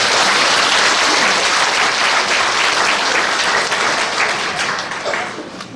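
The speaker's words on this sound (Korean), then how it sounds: "박수 한번 주세요." Church congregation applauding during a Catholic confirmation Mass homily, a dense steady wash of many hands clapping that fills the room and slowly tapers off toward the end.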